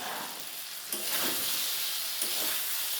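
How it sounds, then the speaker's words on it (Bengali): Spice paste fries in a pan for a dudh potol (pointed gourd) dish, a constant close sizzle that surges briefly twice as it is stirred. "মশলাটা আমার কষানো হয়ে গেছে"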